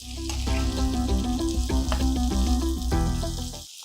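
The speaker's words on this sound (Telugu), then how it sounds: "ఈ కొబ్బరి ముక్కల్ని కూడా మనం పుదీనా ఆకులతో పాటు రెండు నిమిషాల వరకు మగ్గించుకోవాలి" Coconut pieces and mint leaves sauté in a hot pan, a loud, steady sizzle and crackle that carries on without a break and cuts off abruptly near the end.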